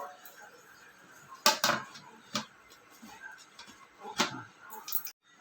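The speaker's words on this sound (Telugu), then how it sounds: "మూత పెట్టుకోవాలి." A lid clanks onto a cooking pot of sweet potatoes simmering with jaggery: a handful of sharp metallic knocks and rattles spread over several seconds, fairly close, with no voices.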